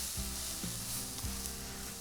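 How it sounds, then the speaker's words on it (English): Filet mignon sizzles loudly and steadily on a Blackstone flat tabletop griddle, a dense close hiss with faint low clinks, and no voices. "let's put it on here and see if we can hear that sizzle"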